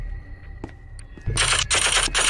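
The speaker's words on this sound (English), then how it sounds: "Good thing I brought a machine gun with me." A machine gun fires in a video game after a quiet start with a few faint clicks. The automatic fire then bursts in loud and close as a rapid, sustained rattle for about a second, with one brief break.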